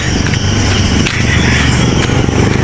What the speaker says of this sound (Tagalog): Ayan, may dumaan na motor sa dulo guys.